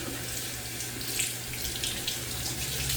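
Hot water runs steadily from a tap onto a shaving brush, a constant soft hiss and splash at close range with no talking.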